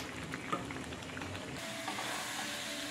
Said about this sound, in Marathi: फक्त एकसारखं हलवत राहायचं आणि गॅसची फ्लेम हाय करायची।